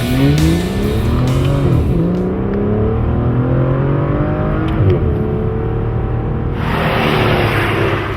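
The V12 engine of an Aston Martin Vanquish roars loudly throughout, its pitch rising and falling as it revs and shifts, heard up close.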